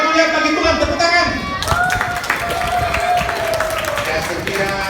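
Children and a congregation at a Sunday school Christmas service applaud, with loose, busy clapping and crowd voices under a speaking voice, and a sung or sustained tone early on.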